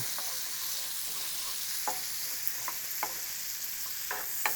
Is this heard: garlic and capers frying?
yes